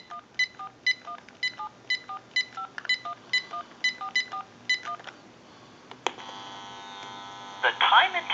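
A series of touch-tone dialing beeps sounds in a steady rhythm on a General Electric 27909 cordless telephone line, then a click gives way to a continuous line tone with a brief crackle near the end.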